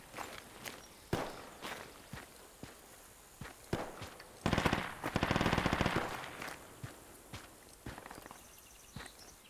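Faint sniper fire and other gunfire in the Project Reality military shooter game: sharp, scattered cracks with a short burst of rapid shots near the middle, all sounding fairly distant.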